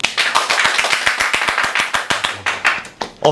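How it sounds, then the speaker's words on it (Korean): A small group claps in a room as a guest is introduced, sharp distinct hand claps in a brisk, slightly uneven rhythm that slows and tapers before stopping. "박수!"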